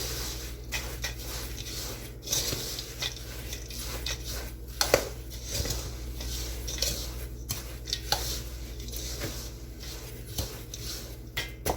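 Ingredients for a no-bake ice box fruitcake being stirred together in a bowl, a steady run of soft scraping and clinking from a spoon against the dish over a low background hum, with small irregular knocks throughout.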